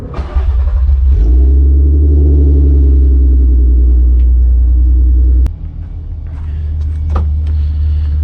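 A loud, deep engine rumble from a VR6-engined Volkswagen, a Mk3 Jetta or Mk4 R32, swelling as it revs, then dropping briefly and building again while driving.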